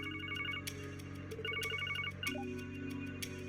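Ringtone from a phone call in the video game Ao no Kiseki, repeating bursts of bright electronic trilling tones with short pauses between them, clear and alone with no talking.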